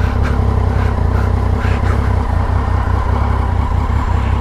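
A motorcycle on a Parisian street near Stalingrad, revved hard during a wheelie, gives a loud, steady, close engine roar with a rough clattering edge, sustained throughout with no talking.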